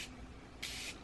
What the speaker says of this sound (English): So let me see if I can spray it for you guys.